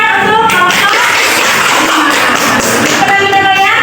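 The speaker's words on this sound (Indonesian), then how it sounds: "Tepuk tangan untuk" Steady, dense clapping from a crowd of students or audience at a school presentation, continuous and loud for the whole stretch with no break.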